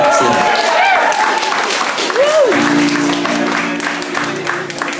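An audience at a Gathering of the Clans event applauds a singer in a steady wash of clapping, mixed with crowd noise and a voice carrying over it.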